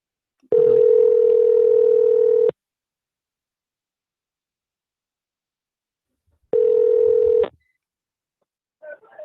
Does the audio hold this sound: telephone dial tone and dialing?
yes